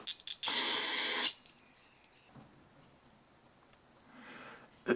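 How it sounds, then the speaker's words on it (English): Carb cleaner sprays onto the carburetor of a 2-stroke engine in one loud, close hiss lasting under a second, followed by quiet handling noises and a faint second hiss near the end. "with your carb cleaner, you don't want to get it on rubber parts or plastic parts"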